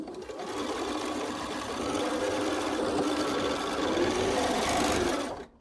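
Sewing machine stitching a quilt seam for a chained stars quilt, a steady close whirring run of rapid stitching that holds for several seconds and then stops abruptly.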